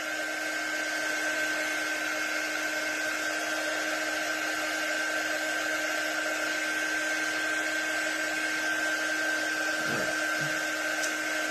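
A hair dryer blows steadily on wet paint during a painting session, a loud constant whir that drones on for the whole stretch with only a faint thump near the end.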